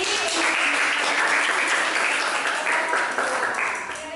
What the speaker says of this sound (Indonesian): Kita beri aplaus lagi.